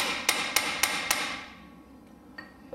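Hammer blows on a chisel driven against a wheel bearing nut on a Land Rover Range Rover: four sharp, evenly spaced metallic strikes close by, then ringing and a couple of faint taps.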